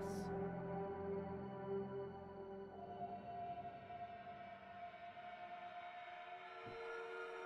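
A train in the video game Choo-Choo Charles rumbles and drones with steady tonal whistle-like hums throughout, moderately loud and continuous, with a short deep thud near the end.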